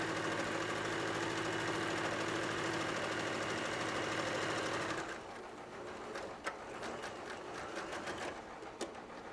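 A sewing machine runs steadily while stitching a potato bag, a fast, even mechanical chatter that stops about halfway through. Quieter handling clicks and rustles follow.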